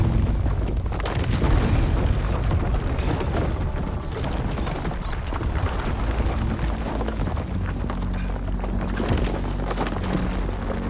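Bulwarks being blown apart in Horizon Forbidden West, a dense, continuous rumble of booming explosions and crashing debris lasting throughout, loud and heavy in the low end.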